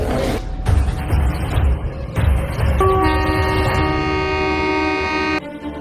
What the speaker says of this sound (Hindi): इस ट्रेन में कोई भी ड्राइवर नहीं है,